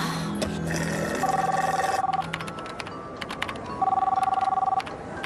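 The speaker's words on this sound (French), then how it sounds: "Tu réponds pas au téléphone?" A telephone rings in an animated cartoon scene with two bursts of bright electronic ringing separated by a short gap, among light background effects.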